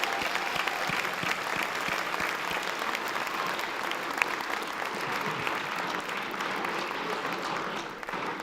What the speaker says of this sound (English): Let's give Linda Marie Santos a great hand of applause